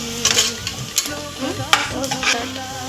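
Ingredients for green chicken biryani frying in a pan until light golden, a dense, steady sizzle close by with occasional stirring scrapes and no talk.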